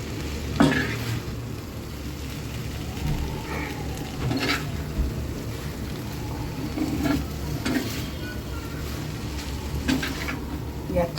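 Spicy Maggi noodles stirred and mixed in a pan with a rice spoon, giving a steady low sizzle with scraping and clicking strokes of the spoon throughout.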